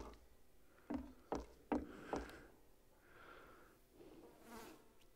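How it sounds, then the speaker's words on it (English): A fly buzzes around in the Half-Life 2 VR video game, faint intermittent whirring drones that drift in and out, alongside a few short sharp sounds early on. "hear the fly buzzing around"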